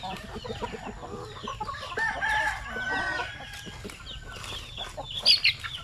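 Native chickens let loose in an outdoor range area cluck and chatter steadily, with a rooster's crow rising in the middle and a few sharper calls near the end, moderately close against faint outdoor background.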